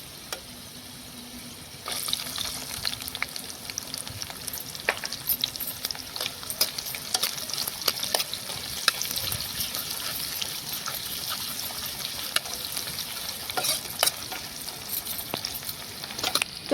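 Onions sizzle in hot oil with golden-browned garlic in a pan, frying steadily with bursts of crackle and intermittent stirring scrapes, close and fairly loud, no talk.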